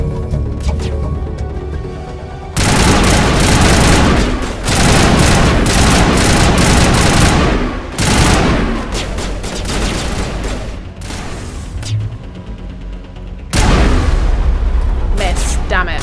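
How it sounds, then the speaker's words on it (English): Enemy gunfire and booming blasts in Mass Effect Legendary Edition, loud and dense in long sustained stretches with brief lulls, while a player talks excitedly over the combat. "Oh, I'm just being shot at."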